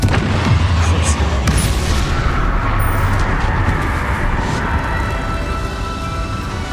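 Confringo explosion spell cast in the Hogwarts Legacy video game, a loud booming blast followed by rumbling, crackling debris that slowly fades.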